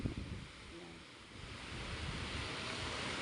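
Small ocean waves wash in a soft, steady rush at sea, faint and continuous with wind noise over the microphone.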